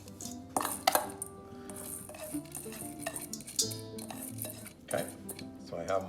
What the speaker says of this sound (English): I'm gonna use a spoon to make sure all my herbs are blended well